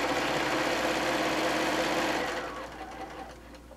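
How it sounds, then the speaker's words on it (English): A sewing machine stitches a seam with a fast, even mechanical hum that runs steadily and then winds down and fades near the end, close and alone without speech. "And I'm doing a fairly decent seam here."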